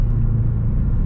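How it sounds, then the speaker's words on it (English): A straight-piped 2017 Hyundai Veloster Turbo with resonator and muffler deleted gives a steady, loud low exhaust rumble while driving, continuous and unbroken by any voice. "the car is like straight piped, resonator delete, muffler delete."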